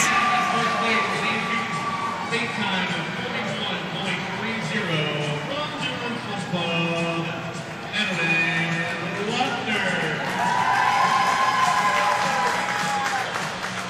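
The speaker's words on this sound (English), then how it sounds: "Have a round of applause for our top 8 finishers" Crowd applause and cheering at a youth swimming divisional meet for girls 10 and under after the 50-yard breaststroke, a steady dense wash of clapping and voices filling an echoing natatorium, with talk mixed in.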